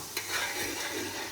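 Ginger and garlic sizzle gently in a pan, with a soft stir of the utensil near the start over a steady frying hiss, quiet and brief.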